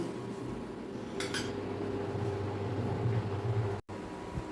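Pot and utensil clatter as cooked dal is taken off a wok: a few light metallic clinks early on over a steady low background hum, with a brief dropout near the end.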